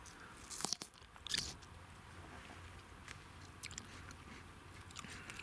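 Two crisp, close crunches as someone bites into a firm, crunchy Udachny table grape, followed by quieter chewing in an otherwise hushed setting.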